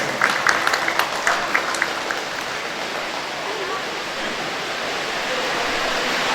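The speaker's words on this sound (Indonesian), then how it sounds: "Beri tepuk tangan yang meriah untuk kita semua." Applause from the audience at the opening of the Maimbau Show at SMKN 7 Padang, a broad, dense wash of clapping that starts with a few distinct claps and swells into a steady roar.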